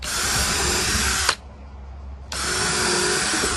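A power drill whirs steadily, pre-drilling screw holes in wood, stops for about a second, then runs again at the same pitch; close and loud with no talking.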